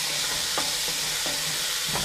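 Steady, dense sizzle of vegetables softening in a hot pan on a kitchen stove, broad hissing throughout with a few soft scrapes from stirring.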